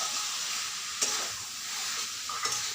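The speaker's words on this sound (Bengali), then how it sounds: "মশলার সাথে চিকেনের পিসগুলো ভালোভাবে মিশিয়ে বেশ কিছুক্ষণ আরও আমি এটা" Chicken pieces are stirred through spices in a hot pan, giving a steady close frying sizzle with two sharper scraping stirs at about one second and near the end, and no voices.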